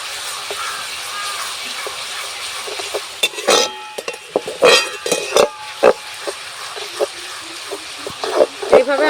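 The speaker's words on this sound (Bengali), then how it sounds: "এইভাবে আমি আলুগুলো ভেজে নেব।" Shredded potatoes frying in hot oil in a wok for Bengali jhuri alu bhaja, with a steady sizzle punctuated by scraping and clinking of a metal spatula stirring the pan.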